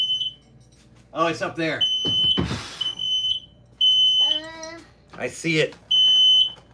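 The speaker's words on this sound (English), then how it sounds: "My vape has set off the smoke alarm." A ceiling smoke alarm set off by a vape, sounding loud, piercing repeated beeps in bursts, interrupted by a person talking close by.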